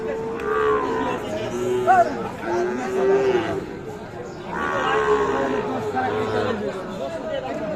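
A Sahiwal bull calf moos in a few drawn-out, loud calls amid a busy livestock market, with people chattering and talking nearby throughout.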